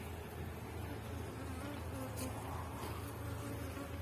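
Honeybees buzz steadily around beehives during the splitting of a colony, a dense, continuous hum that is fairly faint and close, with no talk.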